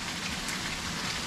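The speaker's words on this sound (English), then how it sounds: "Stop, rain, stop!" Rain falls steadily in a soft, even hiss with faint patter, with no voices over it.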